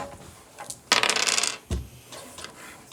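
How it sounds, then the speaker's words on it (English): A roll of dice, with a short rattle and a clattering tumble across a surface followed by a heavier single knock and a few faint taps as they settle, with no talking. "let's see who the Dice of Destiny want me to ask"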